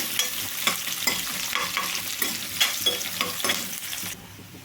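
Onion pieces frying in a pan for paneer butter masala curry, a steady sizzle broken by repeated spoon-stirring scrapes at an even, busy rhythm, close and fairly loud.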